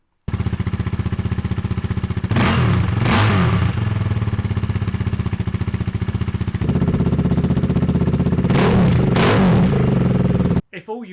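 KTM Duke motorcycle engine with the exhaust baffle removed, idling loud and close with a harsh throbbing exhaust, blipped up twice in sharp revs before cutting off at the end.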